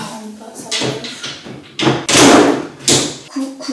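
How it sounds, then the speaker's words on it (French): Furniture drawers being fitted together during a bedroom makeover, with several close, heavy thumps and knocks in an irregular rhythm, some sharp and loud, mixed with brief rustling and a voice talking in between. "Là, j'essaye de monter mes tiroirs"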